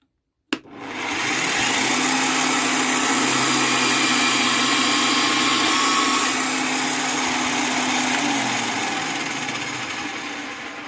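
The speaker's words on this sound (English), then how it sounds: "So I've got it set, it's drilling at about 2000 revs per minute." A Parkside/Scheppach DP60 electronic bench drill runs at about 2000 rpm while drilling, a loud steady whine with a motor hum beneath that begins abruptly and holds evenly, easing slightly toward the end.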